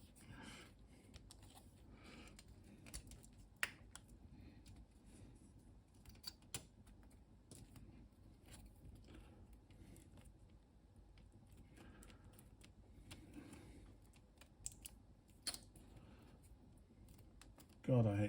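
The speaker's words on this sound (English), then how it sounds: "God, I hate this keyboard." Key presses on the keyboard of a Russian Micron 1.0 ZX Spectrum clone computer, a steady run of quiet, close clicks and taps throughout, with a few sharper knocks and a louder clatter at the very end.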